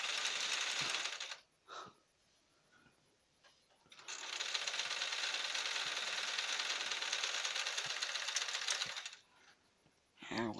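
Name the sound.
sewing machine running roughly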